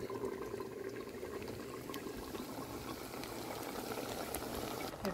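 Jamaican oxtail simmers in a covered pot, giving a soft, continuous bubbling and hiss at low volume with small pops throughout and no talking.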